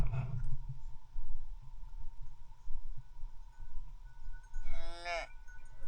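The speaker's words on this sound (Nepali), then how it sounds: "चौरी गाई" A single long, drawn-out lowing call from a chauri (yak-cow hybrid) near the end, loud and close, over a steady low rumble of outdoor background noise.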